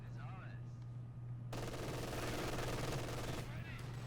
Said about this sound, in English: MG suppressing infantry